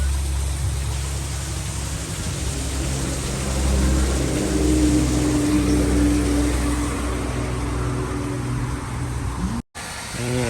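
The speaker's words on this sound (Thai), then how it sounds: "อ่านี่เป็นน้ำตกนะครับ" Steady, loud broadband rush of a forest waterfall at a Buriram café, continuous and even throughout with no speech, cutting out abruptly near the end.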